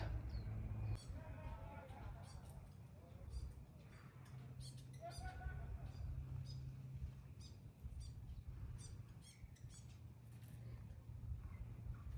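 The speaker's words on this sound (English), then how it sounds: "all I can hear is little birds hopping around and tweeting in the trees." Small birds chirp and squawk in native bush at Omokoroa, New Zealand, scattered short calls that sound faint and some way off, with a person talking quietly over them.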